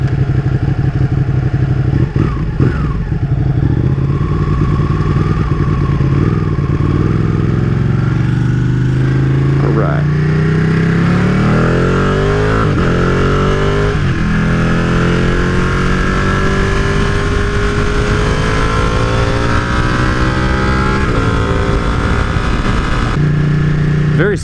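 A Ducati Panigale motorcycle is ridden through corners, the engine note rising and falling as gears shift smoothly, close and steady with wind rumble and no clear talk.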